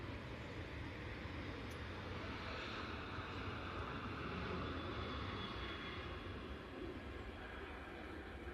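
An airliner at Manchester Airport gives off a continuous broad jet roar, steady and fairly distant, with a faint windy rush and no talk.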